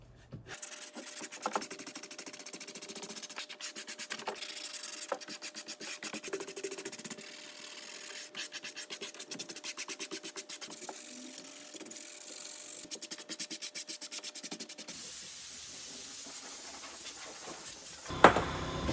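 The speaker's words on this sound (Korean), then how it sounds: "열심히 한번 사포질 해보겠습니다." Steady, close scratchy rubbing of sandpaper drawn back and forth by hand over a Hyundai Grandeur HG car dashboard in a continuous rasping rhythm.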